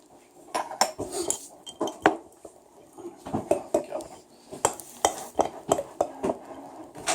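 A spoon clinks and scrapes against a cup while stirring during coffee making, a string of irregular metallic taps and rattles at close range, with faint background murmur.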